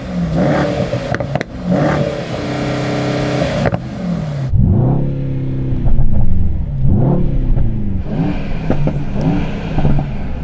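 A Mercedes-AMG GT 63 engine revs hard in a drag-race comparison, rising and falling through several sharp, loud rev sweeps that stand alone, with each burst climbing and dropping in a steady rhythm.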